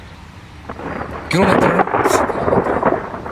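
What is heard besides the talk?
thunder during a storm in Moravia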